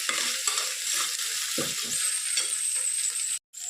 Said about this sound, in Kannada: ಜಜ್ಜಿಟ್ಕೊಂಡಿರುವಂಥ ಶುಂಠಿ ಬೆಳ್ಳುಳ್ಳಿ ಪೇಸ್ಟ್ ಹಾಕಿದೆ